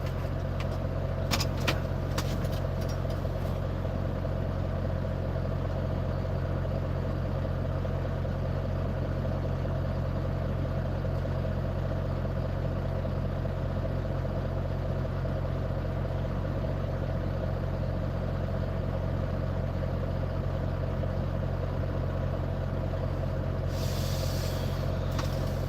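A truck's engine idles in neutral with a low, steady drone and constant hum throughout, joined by short sharp hisses of air brake release near the start and again near the end.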